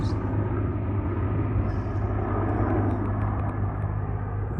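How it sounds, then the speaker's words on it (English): A helicopter passes directly overhead outdoors, producing a loud, continuous low rotor and engine rumble that holds steady throughout with no talk. "There's a helicopter right above us"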